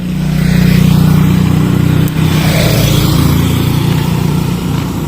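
Motorcycle engine running close by, a loud steady low rumble with a brief dip before resuming its even idle drone.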